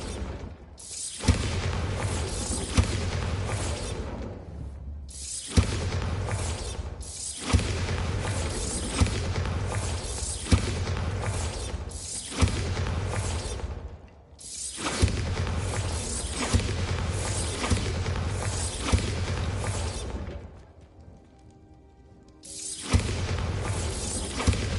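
Repeated Bombarda blasting-spell explosions in the Hogwarts Legacy game, each one a loud crash with a shattering burst followed by a long rumbling roar. The blasts come back to back with a short quiet gap near the end.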